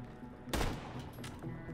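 A single sharp gunshot fires in the video game Borderlands: The Pre-Sequel on Xbox One X, a loud burst over quiet game ambience, followed by a fainter crack moments later.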